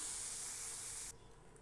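A pressure cooker vents steam after its whistles while mung dal cooks for halva: a loud, steady broadband hiss cuts off abruptly near the end, leaving a quieter residual rush.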